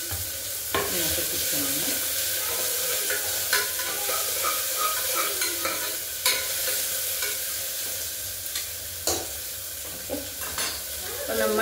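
Onions sizzle steadily in a pan for a Telangana mutton curry, with repeated spoon scrapes and clacks against the pan at irregular intervals and a brief spoken phrase over the cooking.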